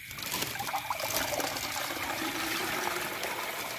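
Water poured out gently in a steady trickling stream outdoors in a rural farm setting, close and continuous with no talk.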